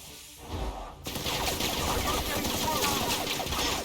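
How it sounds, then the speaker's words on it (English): Shotgun blasts in The Outer Worlds video game: after a brief quiet start, a heavy burst of firing erupts and stays loud and dense, with clustered sharp reports layered over one another. "Shotgun."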